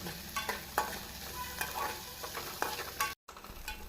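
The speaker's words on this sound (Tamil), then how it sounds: "நாம் கேரட் பீன்ஸை போட்டு நன்றாக கிளற வேண்டும்" Beans and carrots being stir-fried in a pan, a close sizzle broken by repeated scraping and stirring strokes of a spatula, with a brief cut to silence near the end.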